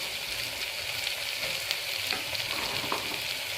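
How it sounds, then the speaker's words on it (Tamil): Beans and carrots frying in a pan for a spinach vegetable pulao give a steady, dense sizzle, with faint scraping clicks as they are stirred, close up and with no talking. "இப்போ நம்ம எடுத்து வச்சுருக்கிற காயெல்லாம் 1 by 1 போடுவோம்."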